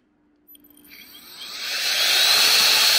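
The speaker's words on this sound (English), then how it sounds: "And this is the optical." Nitecore BB2 electric photography dust blower in optical mode, spinning up from near quiet into a loud, high-pitched whine and rushing air that keeps building and holds steady, heard up close with no talking.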